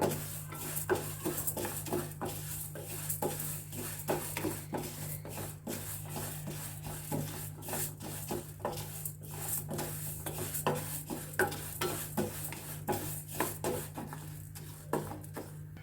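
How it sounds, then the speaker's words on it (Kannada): Urad dal roasting in a pan with a drop of oil is stirred steadily, giving soft repeated scraping and rasping strokes close by, with no talk. "ಇದಕ್ಕೂ ಒಂದು ಡ್ರಾಪ್ ಎಣ್ಣೆ ಹಾಕಿಬಿಟ್ಟು ಹುರ್ಕೋತಾ ಇದ್ದೀನಿ"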